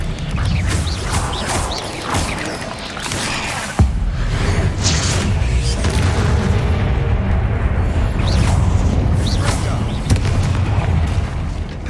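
A disarming spell cast in combat against spiders in Hogwarts Legacy: a sharp magical blast cracks out amid booming, rumbling battle effects and swelling game music, with further impacts following and brief voice lines over the din.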